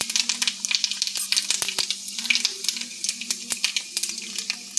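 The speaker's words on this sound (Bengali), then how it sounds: "তেল গরম হয়ে গেছে, দিয়ে দিলাম 5 ফোড়ন।" Panch phoron whole spices dropped into hot oil, crackling with dense, irregular sharp pops over a steady close sizzle, no talking.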